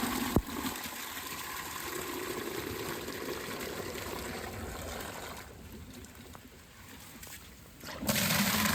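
Rainwater from a rain barrel pours into a bucket in a strong, continuous gushing stream, close and steady, softening midway and then surging louder again near the end as the bucket fills.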